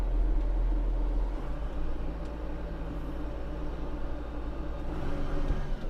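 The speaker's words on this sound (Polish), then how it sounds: "6 cylindrów Cummins" A 2001 Case MX150 tractor with a 150 hp six-cylinder Cummins engine drives forward in second gear, a steady low diesel drone heard close from the cab with no talk.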